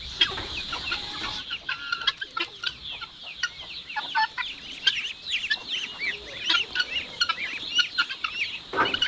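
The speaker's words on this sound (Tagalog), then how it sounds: "Pinapaligiran siya ng mga alaga nating bingala, pato at saka manok." Chickens on a Philippine farm with ducks and guinea fowl nearby keep up dense, overlapping clucks and chirps, some close and loud and others farther off, in an irregular chatter lasting throughout.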